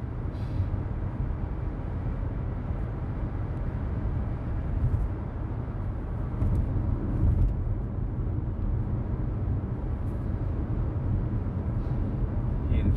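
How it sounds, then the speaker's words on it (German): A car cruises along the motorway just before an exit, heard from inside the cabin as a steady low road and engine rumble throughout with no voices. "So, die nächste Ausfahrt verlassen wir die Autobahn."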